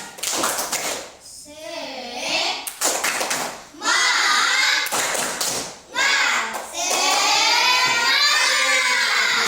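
A primary school class of children in Indonesia does a rhythmic group clapping chant, bursts of many hands clapping in patterned beats alternating with chanted voices, loud and close in a classroom.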